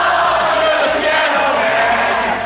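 A Madison Square Garden concert crowd sings along to a song, a loud, dense mass of voices filling the hall with the music underneath.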